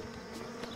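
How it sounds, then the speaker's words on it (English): Insect-like buzzing of a swarm of bees in the video game Trine 2, a steady droning hum that stays close and fairly loud throughout the brief moment, with no voices. "Oh, ow, the bees! Not the bees!"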